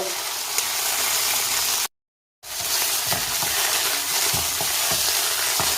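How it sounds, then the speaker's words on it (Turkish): Tomato paste sizzling and frying steadily in a pan for a home-style beef roast, a continuous loud crackle with faint stirring knocks, broken by one brief dead-silent gap. "Salçamızı da çok güzel bir şekilde kavurduk"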